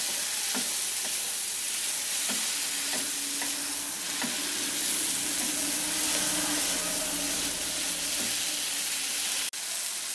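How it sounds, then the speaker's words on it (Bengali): Lightly boiled green peas stir-fry in spice masala in a pan, giving a constant close sizzle and hiss broken by periodic scraping clicks from stirring, ending with a sharp knock near the end. "এখন এটাকে মশলার মধ্যে আমি 2 মিনিট মতো একটু কষিয়ে নেব।"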